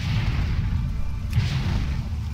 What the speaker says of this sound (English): Gotta go ahead and jump into a fell cannon and go ahead and smash these dudes.